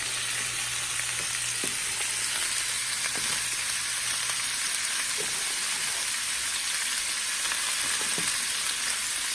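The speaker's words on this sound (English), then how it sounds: "We're going to give our gumbo a stir." Vegetables for a seafood gumbo stirred in a pot over medium-high heat, giving a steady close sizzle and frying hiss with occasional soft scraping stir strokes, no voices.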